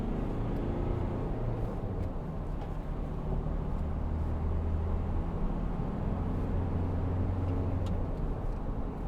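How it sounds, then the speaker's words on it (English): A 2012 Volkswagen Amarok 2.0 BiTDI pickup accelerating, heard from inside the cab as a steady, fairly quiet diesel drone with continuous low road rumble and no talking. "Give it some gas, see what it's like."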